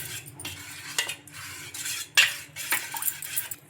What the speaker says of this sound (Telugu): ఒకసారి స్పూన్ తోటి ఇలా బాగా కలుపుకుందాం